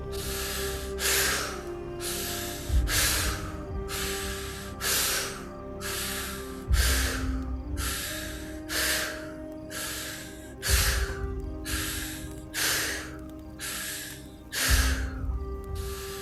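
Forceful exaggerated exhales during a breathwork session come in a slow repeating rhythm, each long breath rushing out close to the microphone and separated by brief quieter pauses, about a dozen in total.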